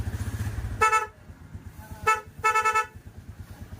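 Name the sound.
car horn honking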